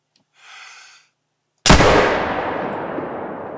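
A single loud muzzle-loader shot from a Hudzik .50 fired at a red deer in a hunting video game, a sharp blast that decays into a long rolling echo; a brief faint rustle comes before it.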